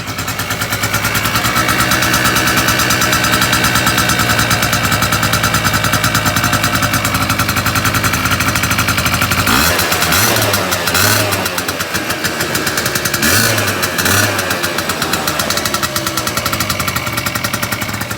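An engine idles close by, fitted with an aftermarket exhaust pipe. Its rapid rhythmic pulsing holds steady, with two brief revs partway through.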